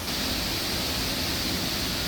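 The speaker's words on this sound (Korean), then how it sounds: "가운데의 긴 폭포를 기준으로 양쪽의 두 폭포가 마치 호위하듯 쏟아집니다." Waterfall at a former quarry site, a long central fall flanked by two side falls, pouring down in a steady, loud, dense rush of broadband water noise with no talk.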